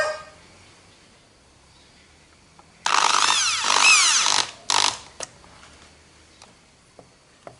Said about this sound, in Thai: ผมใช้สว่านนะครับ